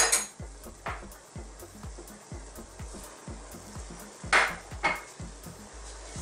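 Spoon stirring a pot of dry sautéed mung bean stew with string beans and malunggay leaves, giving repeated close metal scrapes and clinks against the pot in a steady rhythm, with a faint sizzle underneath and no talking.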